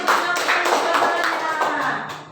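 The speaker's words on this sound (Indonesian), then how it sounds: "tepuk tangan untuk Jacqueline" A classroom gives a student a short burst of applause, many hands clapping close and loud for about two seconds before fading, with voices mixed in.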